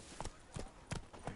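Roach, a horse in The Witcher 3, trots along with four evenly spaced hoof clops over a faint game backdrop, each strike sharp and close.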